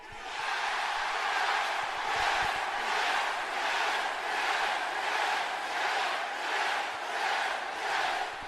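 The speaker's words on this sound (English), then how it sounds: "So you heard that absolute eruption from the crowd when Stephanie says" Wrestling arena crowd roaring and cheering, a dense, loud, sustained wall of voices that swells in rhythmic waves like a chant across the whole stretch.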